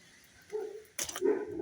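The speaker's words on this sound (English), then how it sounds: "what are you barking for, doggies?" Two short bursts of dog barking, one soft and one louder, with a brief pause between them.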